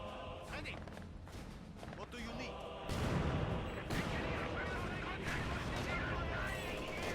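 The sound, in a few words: mortar barrage fire in video game Company of Heroes 2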